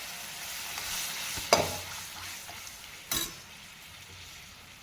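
Gargata bhaji with crushed raw peanuts stirred in an iron wok over a low, steady sizzle, with two distinct scraping clanks of the spoon against the pan.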